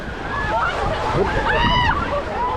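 Rafting paddles splash and slosh through the Black Cheremosh river in a short burst of choppy water sounds, with shouting voices on top.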